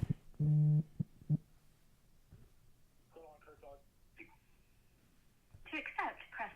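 An incoming phone call rings as a short electronic tone burst early on, loud and close, followed by softer chirps and a brief closing tone, with people talking nearby in between.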